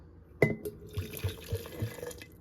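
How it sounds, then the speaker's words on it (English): Boiling water poured into an empty glass mason jar to temper it, a sharp clink followed by bubbly, gurgling liquid sounds and small glassy taps over about two seconds, close and alone. "by adding a little boiling water in the bottom for it to start to warm this glass up"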